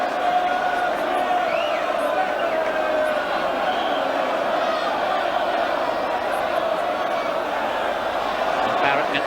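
West Ham travelling supporters cheering a corner during a League Cup semi-final second leg away at Oldham Athletic: a sustained distant crowd roar with whoops and shouts, steady for the whole stretch.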